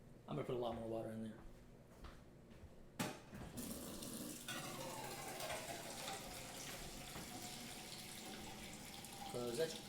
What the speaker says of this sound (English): I'm going to put a lot more water in there.